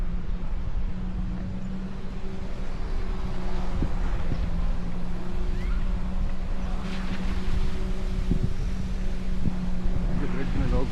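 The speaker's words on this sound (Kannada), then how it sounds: "ಜೆಟ್ ಸ್ಕೀಯಲ್ಲಿ ಹೋಗ್ತಾ ಇದ್ದಾರೆ" A jet ski drones on the Waikato River, its engine a steady, moderately distant hum blended with constant wind buffeting against the microphone.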